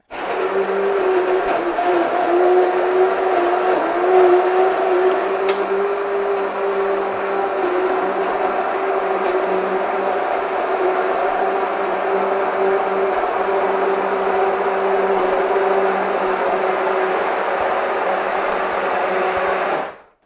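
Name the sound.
electric mixer blending chestnuts into cream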